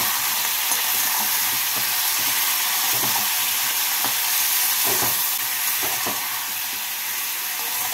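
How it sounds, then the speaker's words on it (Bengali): Vegetables with turmeric, green chilli and ginger paste fry in a pan with a splash of water, giving a loud continuous sizzle with scattered scraping clicks from stirring, no voices. "অল্প জল দিয়ে সবজির সাথে মশলাগুলোকে ভেজে নেব।"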